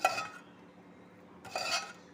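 A pot of water on a lit stove is stirred, giving two short metallic scraping clinks of a utensil against the pot, close and fairly quiet with a faint background hum.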